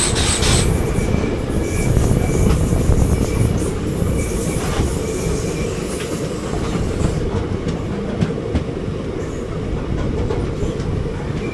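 The Nagercoil Express pulls into Neyyattinkara station with a loud, close rumble of wheels on rails, steady clickety-clack and some wheel squeal as it slows.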